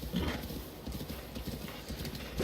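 Steady hoofbeats of a slow horse in the Breath of the Wild video game, a repeating clip-clop rhythm at moderate loudness with only faint traces of voice.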